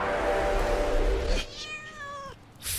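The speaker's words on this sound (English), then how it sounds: "Fucking cat!" A cat meows in a drawn-out, wavering call that rises and falls, close and clear, following a stretch of broadband rustling noise, in an alleyway entrance.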